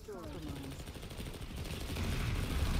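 Rapid automatic gunfire from hip-fired weapons in a PlanetSide 2 Biolab fight, a quick rattling burst that builds louder toward the end, with a voice briefly heard at the start.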